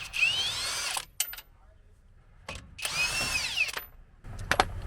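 An impact gun removes brake caliper bolts on a Chevy Silverado in two loud whirring bursts of about a second each, with brief clanks in between.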